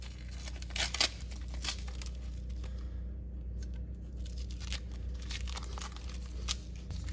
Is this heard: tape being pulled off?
yes